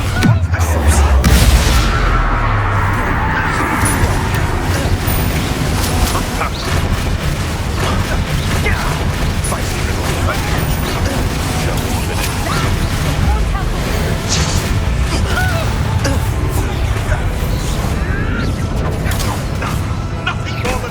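Bombarda spell explosions and combat in Hogwarts Legacy: loud booming blasts and crashing impacts over a dense, continuous layer of mechanical rumble and clatter, with voices speaking throughout.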